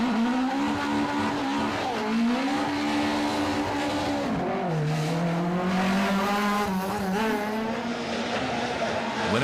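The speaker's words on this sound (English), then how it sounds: "2nd, James McCarville and Paddy McCrudden, despite this hard revving spin on Moll's Gap" A historic rally car spins hard on Moll's Gap in Killarney, its engine revving loud and close throughout in a sustained wailing drone that climbs and dips as the car slides.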